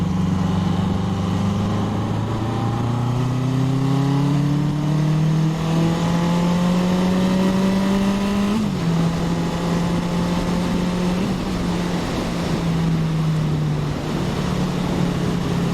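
A 1981 Honda CB750K motorcycle engine drones steadily while riding, its pitch climbing as it accelerates, dipping briefly at a gear change, then holding a steady cruising hum with wind noise.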